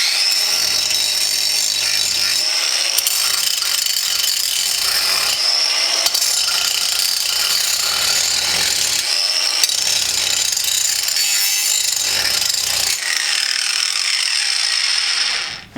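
A cordless Craftsman angle grinder grinds down a bolt with a continuous, loud, harsh high whine and gritty scraping that keeps going with slight dips before cutting off at the end.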